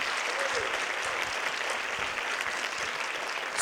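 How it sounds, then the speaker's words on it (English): An audience at a horror film festival screening applauding the director, dense steady clapping throughout, loud and close, with a brief swell at the end. "Give him a big applause."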